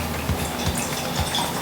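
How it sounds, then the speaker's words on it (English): Wild Turkey Masters Keep Revival bourbon poured from a bottle into a glass, a soft liquid trickle with a few gentle glugs, close and quiet, no voices. "Now, do I want to do a generous pour of this"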